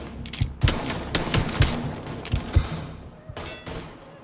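Bursts of automatic gunfire and single shots ring out in the Mafia III shooter game, loud, close and overlapping, with sharp repeated cracks over a dense rumbling background.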